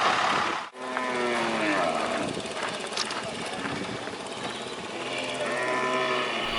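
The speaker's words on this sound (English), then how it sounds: "Hundreds of cattle are being mustered by a dozen riders on horseback." Hundreds of cattle are mustered by a dozen riders on horseback, several low moos carrying across a steady background drone, with voices talking over the herd.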